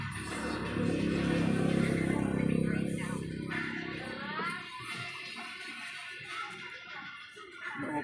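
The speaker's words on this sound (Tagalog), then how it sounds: "At antayin na lang natin na ito ay dumami ang tubig." Water gushes into a washing machine tub, a loud rushing fill that gradually eases, while people talk nearby over the flow.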